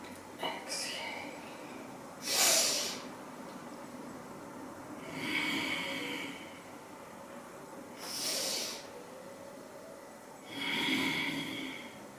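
Slow, deep breaths during a seniors' yoga class, four long airy inhales and exhales spaced evenly a few seconds apart, close and clear over a quiet room with faint background noise.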